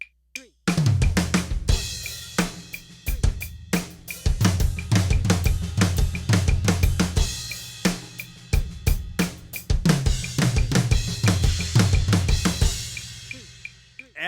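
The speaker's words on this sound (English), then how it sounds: "we're playing the cymbal supported with the kick" Drum kit playing flammed fills, each phrase ending with a cymbal crash backed by a kick drum; loud, close and rhythmic strokes with ringing cymbal wash, no talking.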